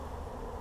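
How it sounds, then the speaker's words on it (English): Honey bees swarm around an open hive in a bee yard, a dense steady hum of many wings close by, unbroken for the whole brief moment with no talk. "there's a lot of bees in the air"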